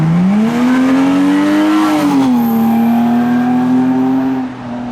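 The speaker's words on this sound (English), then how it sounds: "And now we have a police van making its entrance." A police van drives into a wet car meet at a Japanese car show, its engine note rising as it revs then steadying, a close tonal hum with a faint squeal in the background.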